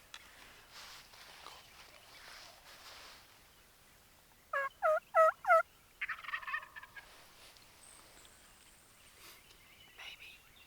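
A big wild turkey tom gobbles in a quick burst of four loud rattling calls, followed by shorter fainter clucks, heard outdoors during a spring hunt with quiet whispering before and after.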